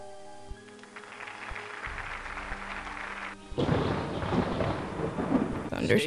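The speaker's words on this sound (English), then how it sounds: "Thunderstorm." A thunderstorm effect from the Nancy Drew game Stay Tuned for Danger: steady rain hiss with a few low thumps, then a loud, rumbling thunder crash that swells and rolls on to the end.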